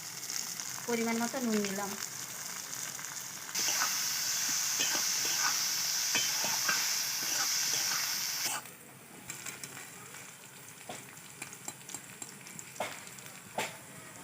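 Mixed vegetables fry in hot oil with a steady, close sizzle and crackle, swelling louder for several seconds; a voice speaks briefly at the start.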